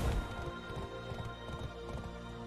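A horse mount in the Everfrost video game trots along, steady clip-clop hoof beats repeating at an even pace under a constant background music bed.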